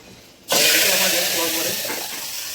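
Phodni, a spiced tempering, hits hot oil with a sudden loud burst of sizzling that settles into a steady bright hiss and crackle, close by, during a Makar Sankranti festival day in a home kitchen.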